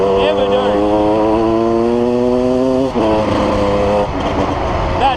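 A dirt bike engine revs steadily for about five seconds, its pitch climbing and holding, dipping briefly near the three-second mark, then surging again, loud and close throughout.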